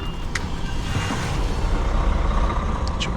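An HGV truck with a trailer reverses and turns on a tight village road: a steady, close diesel rumble runs throughout, with brief high squeaks near the start and end.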